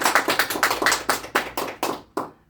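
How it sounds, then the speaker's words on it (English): A short burst of clapping at a game table, about a dozen sharp, fairly loud claps in quick uneven succession that thin out and stop after two seconds. "give him a round of applause as he's leaving our"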